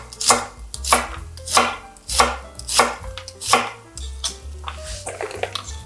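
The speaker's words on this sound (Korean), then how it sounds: "양파 반 개 채 썰어주세요." A knife slices half an onion into thin strips on a cutting board, seven loud, steady, evenly spaced chops up close, then lighter quicker taps, with no voices.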